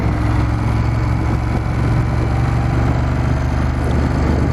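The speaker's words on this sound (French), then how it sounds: "Ah, il y a de la Harley, là." A Harley-Davidson motorcycle engine rumbles loudly and continuously at a lake dam being drained for repairs, a steady low idle with no speech over it.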